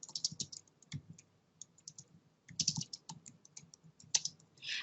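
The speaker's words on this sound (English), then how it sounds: "I'll type it here." Bursts of keystrokes on a computer keyboard, typed in quick irregular runs with short pauses between them, close and fairly quiet, with no voices over them.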